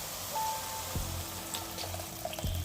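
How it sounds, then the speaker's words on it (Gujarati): Water is poured into a pan for methi tuver dhokli shak, giving a soft, quiet trickle and splash with a couple of small knocks, close by and without speech. "હવે આપણે એમાં પાણી એડ કરીશું"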